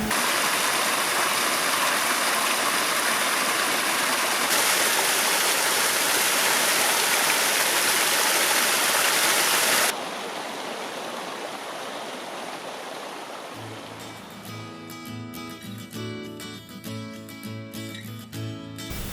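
A shallow creek at the top of a waterfall on Hinchinbrook Island rushes and babbles steadily up close, a continuous broadband wash of water; near the end the flow softens a little.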